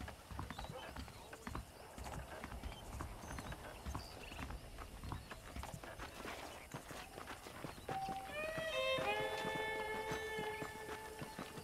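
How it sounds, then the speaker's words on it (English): Horses clip-clop with steady hoof steps in the Red Dead Redemption video game, then a horse neighs loudly near the end, with faint background ambience underneath. "The horses are saddled up over here."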